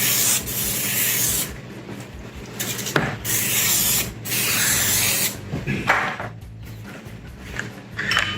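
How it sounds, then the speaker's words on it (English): Vegetable oil sprayed onto a sushi mat, heard as several close, loud hissing spray bursts separated by brief gaps and light handling noises. "we want to give it a quick spray down with some vegetable oil"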